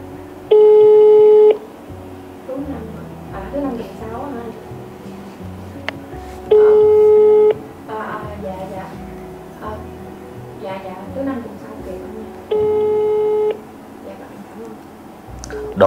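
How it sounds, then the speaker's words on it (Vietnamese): A phone call rings out with no answer: three long electronic ringback tones repeat at even intervals, with quieter beeps and muffled sounds in between. "Đổ chuông không nghe máy rồi"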